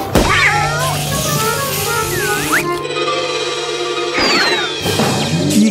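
Cartoon cat from the children's animation Groovy the Martian meowing and yowling: several bending, squealing cries with comic boings and crashes between them, loud and close over a humming music bed.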